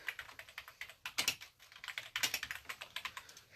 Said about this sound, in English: I'm typing literally what is being said to me